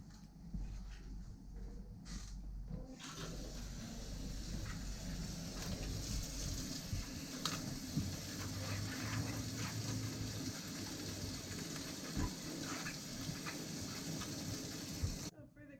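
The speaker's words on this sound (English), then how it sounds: "So first we'll start by washing our cabbage." Tap water runs steadily into a sink while a head of cabbage is washed under it, a continuous soft gushing hiss with light splashing throughout.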